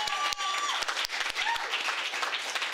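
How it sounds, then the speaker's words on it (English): A convention audience at the Uhuru Solidarity Movement National Convention claps after a speech, with brisk, sharp applause close by that thins out, plus a few scattered separate claps and faint voices. "Let's give another round of applause for that powerful statement."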